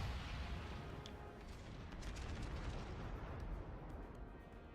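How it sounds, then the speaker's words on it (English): Rumbling booms and dense blasts of battleship high-explosive shells striking an enemy ship in World of Warships, a steady loud wash of gunfire and impacts with no talk. "start peppering it with high explosive shells, trying to set it on fire"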